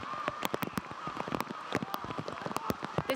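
Heavy rain pours down at a soccer match between Bethlehem Steel FC and Richmond Kickers, a steady hiss of rainfall peppered with sharp spattering drops, with no voices standing out.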